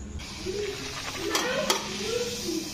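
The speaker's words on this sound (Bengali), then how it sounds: "এই যে আমার লুচি ফুলেও গেল, তেলটা গরম হয়ে গেছে খুব" White flour luchi puffing in very hot oil, a steady soft sizzle with a few sharp spits and crackles, heard close and alone with no talk.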